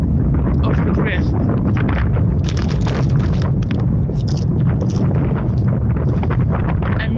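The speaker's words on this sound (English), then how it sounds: "And the wind." Strong wind buffets the microphone as a continuous low rumble outdoors on the Tour Divide bike route, loud and steady throughout with a voice speaking over it.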